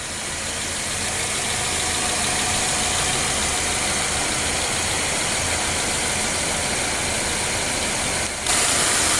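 A 2013 Subaru Outback with a 2.5-liter horizontally opposed four-cylinder engine idles steadily, a loud, continuous mid-range rumble with a constant hum throughout and no talking.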